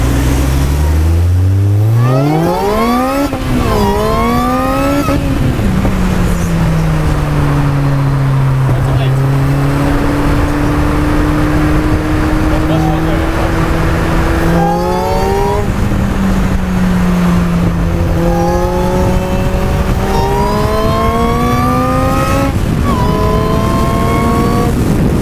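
A supercharged Ariel Atom accelerates hard through the gears, engine pitch climbing steeply then dropping at each shift, loud and close over a steady drone of wind and road noise.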